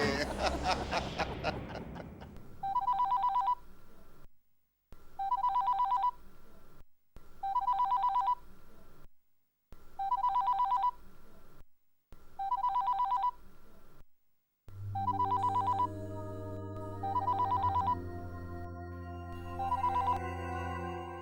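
A telephone rings in repeated regular bursts, about six rings with short silent gaps, clear and close, while laughter and chuckling run underneath and music enters near the end.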